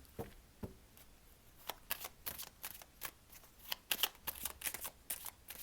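Tarot cards are shuffled and drawn from the deck in a series of quick, close riffling snaps and soft slaps in a quiet room.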